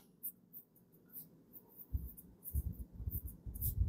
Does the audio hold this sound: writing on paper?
yes